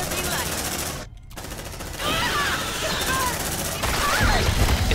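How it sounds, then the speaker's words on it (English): Suppressing gunfire from marines in the video game Aliens: Dark Descent, a dense burst of shots under game noise with a short break near one second, fairly loud and continuous. "Suppressing fire."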